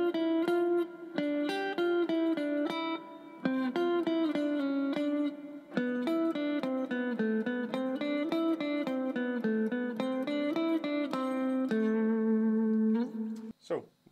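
A guitar plays a violin concerto passage slowly, clean sustained single notes with clear pitch, stepping through a steady melodic line at moderate volume before ending abruptly.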